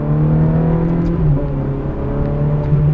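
A Ferrari powers out of a corner on a race track, its loud, close engine holding a steady droning note that dips briefly and then climbs again as it accelerates.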